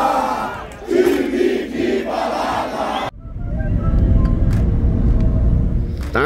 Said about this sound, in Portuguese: E agora é protesto da torcida.